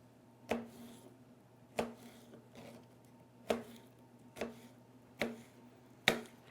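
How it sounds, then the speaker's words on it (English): Pears being chopped with a knife on a cutting board, six crisp, evenly spaced chops close by over a steady low background hum. "these pears are chopping up very nicely"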